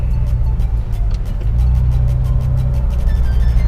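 A Honda Civic FD1 Type-R is on the move, its engine a deep, steady rumble heard from inside the car, close and loud, with a faint rhythmic ticking over the top.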